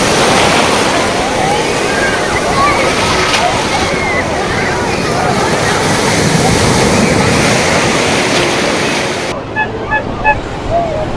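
Ocean surf at Perupalem beach in West Godavari, Andhra Pradesh: a steady, loud wash of breaking waves with wind rumble on the microphone, continuous throughout and easing near the end.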